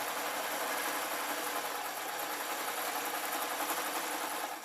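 A sewing machine stitches fabric for an artist's painting smock, a steady, fast, even whir that runs continuously at moderate volume close by.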